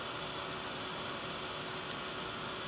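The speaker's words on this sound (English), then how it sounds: "So I've just got my heat tool here. I'm just heating it up slightly off camera" A heat tool blows loud, steady and close while it warms embossing powder on stamped berries for a Christmas card. The hiss holds constant and unbroken with no voices.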